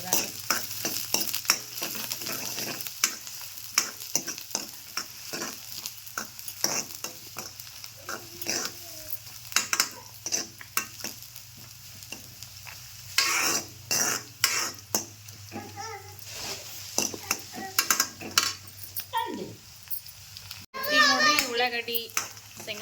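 Onion and chillies fry in a pan with a sizzle and are stirred again and again, the spoon scraping in bursts. Children's voices and chatter sound nearby.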